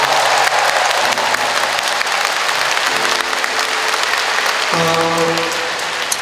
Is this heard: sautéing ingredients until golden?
no